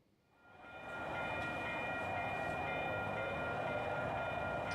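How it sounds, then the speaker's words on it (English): A train rumbles past up close, a steady loud roar of wheels and cars with a sustained tonal ring over it. "Railroad crossing."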